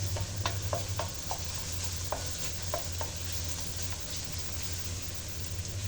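Garlic sautés in a pan for a sponge gourd and corn soup with pork, a steady crackling sizzle marked by crisp scraping taps of a utensil in the first few seconds, all close and without talk.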